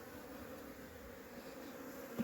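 Honeybees pouring out of a hive on an 11-degree day after liquid oxalic acid treatment, a faint, steady buzzing hum of many insects with one brief louder fly-by near the end.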